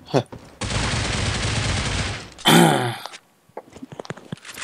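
A loud, close burst of automatic gunfire from Critical Ops, a dense rattle about two seconds long, then a sharp, louder volley and scattered shots and clicks afterward.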